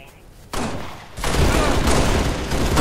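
Sustained turret gunfire in the Halo Reach video game during an Infection match, with a continuous loud rattling barrage starting about half a second in and intensifying after one second, mixed with game noise.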